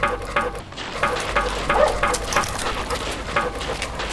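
A dog barks in short bursts and whimpers over a constant low engine hum at an air base hangar, the yips near and moderately loud.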